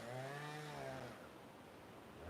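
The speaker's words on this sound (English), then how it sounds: "The chainsaw doesn't sound right." A chainsaw runs close by on an Alaska homestead. Its engine holds a steady high whine that tapers off partway through, leaving a rough idle.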